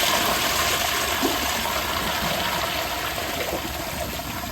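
A brand new Proflo Jerritt toilet with an overfilled tank flushes, releasing a loud, steady rush of water through the bowl and pipes that continues evenly for several seconds.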